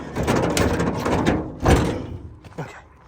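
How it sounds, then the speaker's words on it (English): Door of a new 2023 Ram 1500 pickup truck being shut, a single loud solid thump near the middle, with a smaller knock after, following a stretch of rustling handling noise. "I promise I know how to shut this door."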